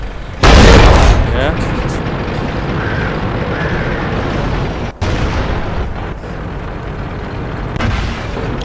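World of Tanks artillery fire booms loudly near the start with a long rumbling tail, followed by a second thump midway, while a voice briefly speaks.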